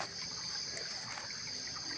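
A small forest stream trickles and burbles softly and continuously, a faint even wash of flowing water with no voices.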